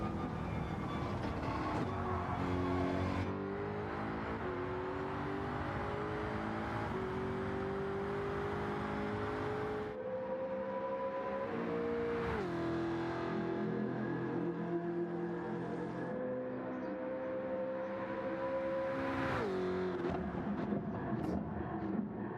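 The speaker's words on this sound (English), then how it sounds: "Whoa, listen to that short shift." Race car engine in a racing video game, revving with rising tones that drop sharply at each quick short shift, repeating through several gear changes, steady and fairly loud with some talk over it.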